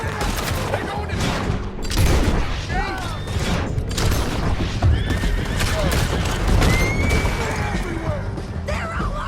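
Horses whinny and neigh repeatedly in a Red Dead Redemption 2 gunfight sequence, several sharp calls over a dense bed of hoofbeats, gunfire and shouting voices.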